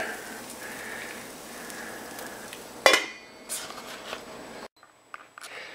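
Chile and a piece of flatbread fry in a pan with a soft continuous sizzle, broken by a sharp clatter of a utensil midway, then the frying quiets and stops near the end.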